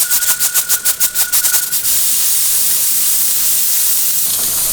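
A pressure canner's weighted regulator jiggles in quick rhythmic bursts of hissing steam for about two seconds, then gives way to a steady, loud continuous hiss, close up with no talking.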